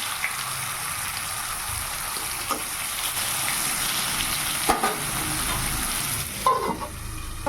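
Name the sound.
eggplant frying in a pan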